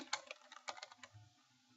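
Typing a value on a computer keyboard, a quick run of about a dozen light, close key clicks in an uneven rhythm, fading into quiet.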